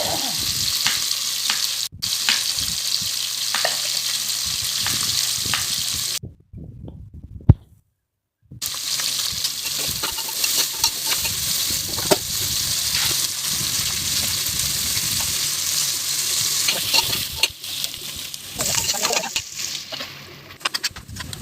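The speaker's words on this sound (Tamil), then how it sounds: "கோல்டன் ப்ரௌன் கலர் வர வரைக்கும் நல்லா அந்த ஆனியன் ஃப்ரை பண்ணுவோம்" Onions frying in hot oil toward golden brown for a home-cooked dum biryani, a steady close sizzle running nearly throughout, with a brief silent gap near the middle and occasional stirring clatter; no one talks.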